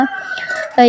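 A rooster crows loudly and close by in a village yard, a drawn-out cock-a-doodle-doo that breaks off and then resumes with a sharp, strong note.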